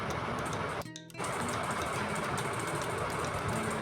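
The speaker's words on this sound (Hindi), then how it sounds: "अब यहाँ पर सिलाई करेंगे।" A sewing machine hums steadily, stitching folded fabric over a zipper. The close, continuous drone stops briefly near the start, then resumes.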